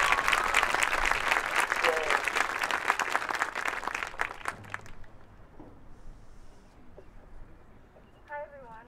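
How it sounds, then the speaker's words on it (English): Crowd applause for a high school marching band at an end-of-season event, dense sustained clapping for about five seconds that then thins out into quiet room noise with scattered voices. "So let's give them a round of applause."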